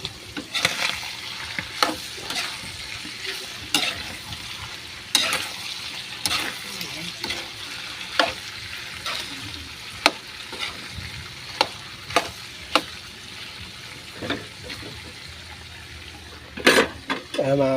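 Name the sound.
stirring food in a frying pan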